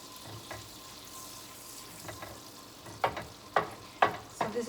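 A wooden spoon stirs food in a non-stick pan, the quiet sizzle joined in the second half by several distinct, close scraping strokes, irregularly spaced, with no voices.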